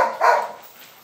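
A rottweiler gives a single bark, loud and close, at a home kennel, followed by a brief fading tail with no talk over it.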